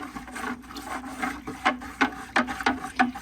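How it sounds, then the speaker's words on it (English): A spoon stirring salt into turkey brine, made with sage, in a container, giving a series of short scraping, grating strokes that quicken and grow more distinct toward the end. "Then you just stir this all around until the salt dissolves"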